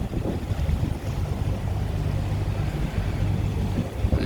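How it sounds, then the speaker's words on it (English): Big boat speeding by on the East River off Manhattan's east side, a loud, close low engine drone with a steady hum, mixed with gusty wind buffeting and water rush throughout. "Nice big old boat zooming by."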